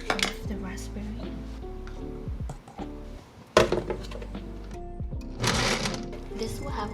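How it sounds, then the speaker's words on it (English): A blender purees raspberries with a whirring motor that runs in short bursts, mixed with clinks of dishes and utensils nearby. "Gonna blend, I think, 1 cup of the raspberry."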